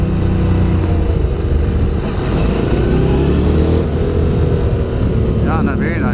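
A Honda NC750X motorcycle with a 750cc engine accelerates in second gear, its loud, steady engine drone rising gradually in pitch and staying close throughout.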